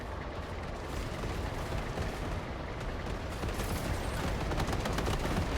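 A turret fires in the vehicle-building strategy game Machine Mind, rapid loud bursts of mechanical gunfire in a constant, crackling barrage with heavy low rumble.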